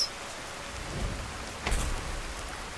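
Rain falling in Skyrim, a steady hiss of rainfall with a low rumble swelling partway through, moderately loud and with no one speaking.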